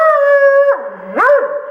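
A dog lets out a loud, close howl that slides down, then rises into a short yelping bark, with no talk.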